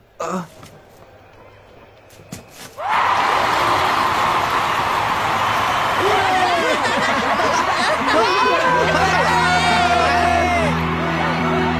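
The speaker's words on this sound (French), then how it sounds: "Et puis tu entends, tout le monde nous acclame." A big stadium crowd cheers at an anime football match, and the roar of the crowd swells suddenly after a few quiet seconds into a loud, sustained din of whoops and shouts with a horn-like tone near the end.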